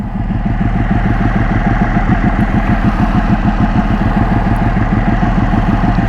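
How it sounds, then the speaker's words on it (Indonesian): A Ducati Panigale 1199 Tricolore twin-cylinder sport motorcycle engine idles steadily up close, a deep throbbing pulse with a loping, uneven two-cylinder rhythm and no voices. "Suaranya juga seksi sih menurut saya ya. 2 silinder tapi seksi banget."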